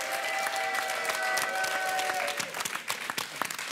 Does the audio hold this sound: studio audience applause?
yes